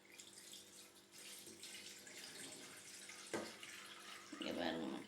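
Drumstick leaf and tamarind liquid with oil being strained, pouring and splashing steadily at close range, with a fuller burst of liquid near the end and no talking.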